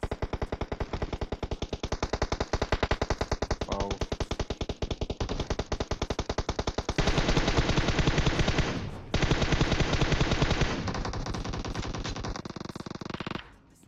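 Rapid automatic gunfire from the PUBG Mobile battle royale game, dense bursts of shots crackling on and off for the whole stretch, loud and close, with no voices.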